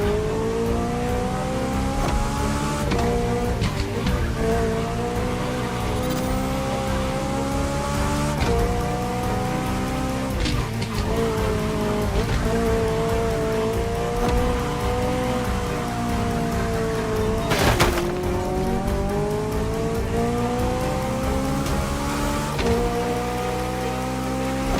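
An open-top car is driven in The Crew Motorfest racing game, its engine revving up and down through repeated gear changes while rain patters steadily. The engine sounds loud and close, with no voices.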